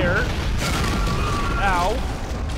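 Asteroid cannon firing in the Dead Space video game, a loud sustained booming blast with rumbling low end and rising whine-like tones, continuous for a few seconds over a dense sci-fi background.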